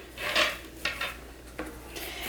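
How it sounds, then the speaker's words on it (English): Valentine's Day deco mesh on a wreath is pushed outward and scrunched close by hand, giving soft, scratchy rustles in a few quick bursts. "I'm just going to push all the mesh outward"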